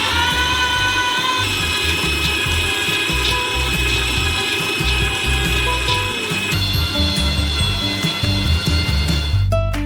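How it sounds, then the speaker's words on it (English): A meat grinder fitted with a small nozzle grinds a large batch of nuts, giving a continuous loud motor whine with rattling grit underneath, close up and without speech. "We transfer them into a meat grinder. And grind them through a small nozzle."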